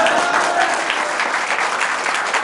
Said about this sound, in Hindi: एक बार इनकी स्माइल के लिए ताली बजाओ